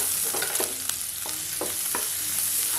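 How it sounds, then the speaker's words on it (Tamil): Grated carrots sautéed in a pan for ragi rava idli, a steady soft sizzle broken by a handful of quick scraping stirs of the spatula, close up and with no voices. "கேரட் சேர்த்து ரொம்ப நேரம் வதக்க வேணாம்"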